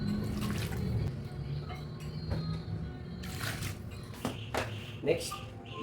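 Water poured into a 2-kilo batch of semi-hard bread dough mix of flour, salt and milk powder, splashing and trickling steadily close by with short bursts, partly under spoken voice.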